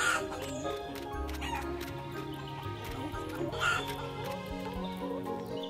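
Several hens cluck and squawk nearby in a busy, overlapping chorus, with occasional sharper calls and faint background noise.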